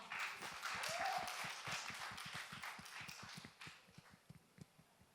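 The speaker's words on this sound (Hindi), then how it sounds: "इसी बात पे जोरदार तालियों के साथ स्वागत" Applause at a TV show launch event welcoming a guest actress on stage, a burst of clapping from a crowd that tapers off over several seconds, with no talking.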